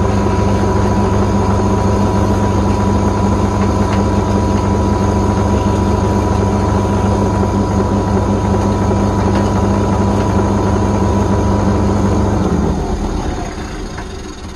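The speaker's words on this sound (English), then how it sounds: "So the lathe has to be on its fastest speed for this job." A lathe runs at its fastest speed beveling the edge of a CD, giving a loud, steady motor hum with faint scraping, then winding down and fading at the end.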